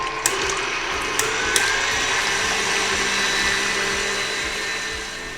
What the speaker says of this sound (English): we're gonna turn this on high and whisk the egg whites until soft peaks form